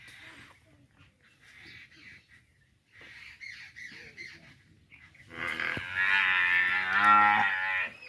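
A cow lets out a long, loud bellow close by, rising after a stretch of quieter sounds and fainter calls in a rural cattle yard.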